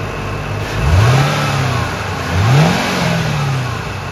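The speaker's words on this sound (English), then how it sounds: "Now I'm going to go run the idle up so we can get the oil circulating through the system" A 2005 Roush Mustang engine holds a steady idle, then is revved twice, each rise in pitch swelling loudly and falling back to idle, close by with no talking.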